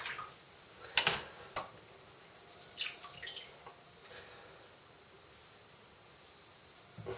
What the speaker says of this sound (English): And then rinse.